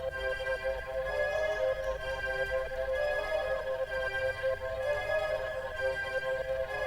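An Analog Lab synth preset layered over a staccato strings pattern in an orchestral sample, with lows cut by EQ, forming a dense, bright, rhythmically pulsing chordal bed that runs steadily and evenly for the whole stretch.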